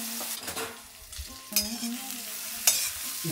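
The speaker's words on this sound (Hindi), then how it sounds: "भिंडी को हमने 10 से 15 मिनट रेस्ट करने के लिए रख दिया था और अब हम इसको डालेंगे गर्मा गर्म तेल में।" Rested okra (bhindi) dropped into hot oil gives a lively crackling fry, broken by stirring and scraping knocks and a couple of sharp clatters, close and fairly loud, without talk.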